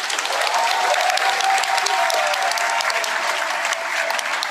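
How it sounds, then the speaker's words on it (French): A crowd at a political rally in Paris breaks into dense, continuous applause, loud and even across the entire stretch, with no voices standing out. "Il faut l'applaudir."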